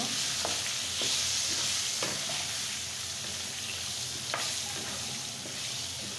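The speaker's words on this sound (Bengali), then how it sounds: "এখন আমি খুব সুন্দর করে এটা ফ্রাই করে নেব।" Beef tripe and potatoes frying with turmeric in a pan give a steady close sizzle, with a few sharp stirring scrapes over the crackle and no talking.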